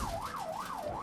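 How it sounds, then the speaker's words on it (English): A police siren in the video game Rad wails up and down in a quick, repeating sweep, continuous and moderately loud, over a low background rumble. "It's nice to hear a police siren that isn't outside the house for once."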